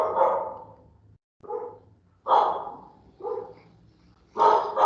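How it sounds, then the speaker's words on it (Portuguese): Several dogs bark outside a home, loud repeated barks coming in uneven bursts separated by short pauses, fairly close and heard alone with no talk. "Difícil controlar a cachorrada, viu?"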